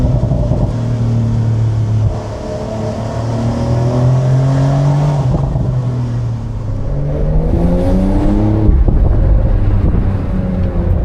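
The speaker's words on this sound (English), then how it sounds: "with this beautiful motor sound of the Carrera GTS" Porsche Carrera GTS flat-six engine revving and pulling through gears while driving, loud and close with rising and falling pitch sweeps, a steady roar and light wind noise, no talking.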